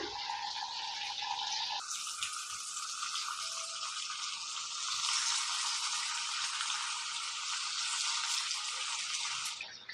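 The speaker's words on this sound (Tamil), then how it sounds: "இப்போ எண்ணெயும் சூடாயிருச்சு. நம்ம சிக்கனை போட்டு நம்ம பொரித்து எடுத்துக்கலாம்." Chicken pieces deep fry in hot oil for chilli chicken, a loud, dense, continuous hiss and bubbling close by, with a sharp surge as pieces go in and no talking.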